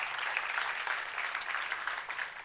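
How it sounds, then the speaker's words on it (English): Conference audience clapping for a speaker on stage, a steady wash of many hands applauding at moderate volume for a couple of seconds. "give a big round of applause for Scott"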